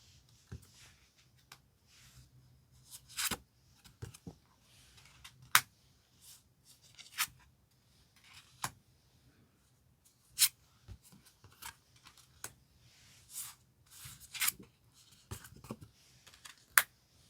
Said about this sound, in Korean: 카드 5 장을 선택해 볼게요